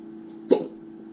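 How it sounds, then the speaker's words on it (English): A single sharp hiccup breaks a quiet room, one short abrupt burst from a man sitting close to the microphone over a faint steady hum. "I know the hiccups keep dragging through."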